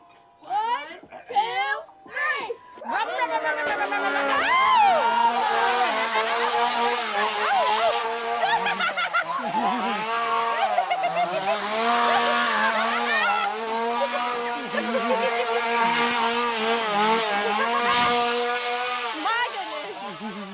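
A clown at a haunted attraction revs a chainsaw close by, a loud, continuous buzzing engine drone that rises and falls in pitch for many seconds, with people's voices and shouts mixed in after a few short opening bursts.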